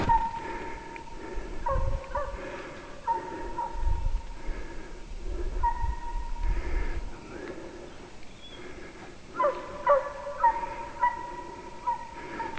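A Russian hound on a hunt bays hoarsely in repeated rough, strained barks, some in quick clusters and others spaced apart, heard at a moderate distance over low outdoor rumble.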